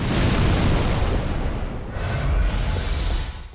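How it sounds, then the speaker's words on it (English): An exploding vine-wrapped enemy from Dark Souls 3 sends out a loud, sustained rumbling boom with heavy low-end roar that swells again midway through and stays dense to the end. "those ones wrapped in vines explode"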